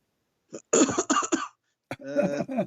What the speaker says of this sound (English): cough more